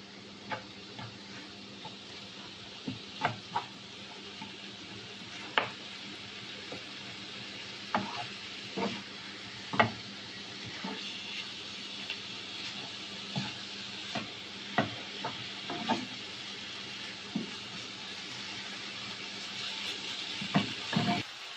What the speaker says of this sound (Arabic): غادي نخلطوا هاد العناصر مزيان، نشحروا مزيان